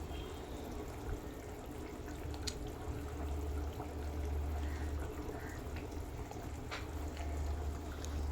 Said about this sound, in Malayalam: ഇനി നമുക്ക് ഇതിലേക്ക് കുറച്ച് പച്ച വെളിച്ചെണ്ണ ഒഴിച്ചു കൊടുക്കാം.